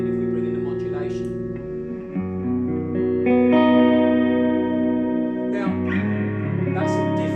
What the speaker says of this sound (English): That's a different sounding modulated reverb to the RV6.